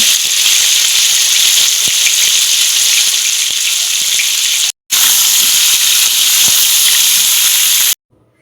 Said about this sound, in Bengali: লাল লাল করে ভেজে নিয়েছি মাছগুলো